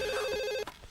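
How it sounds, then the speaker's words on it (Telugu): A telephone rings in a steady electronic warble for most of the second, then cuts off abruptly, leaving a brief thud and quiet room noise. "ఫోన్ రింగ్ అవుతుందండి"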